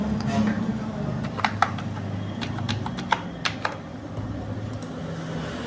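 Rapid typing on a computer keyboard while entering a folio number into an online exam application form, with irregular clusters of close, crisp key clicks over a steady background hum.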